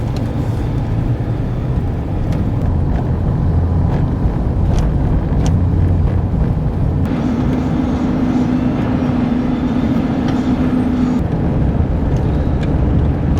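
A car cruises along the interstate before dawn, giving off a steady loud road and engine drone with tire hum that holds constant throughout, plus an occasional faint tick or rattle.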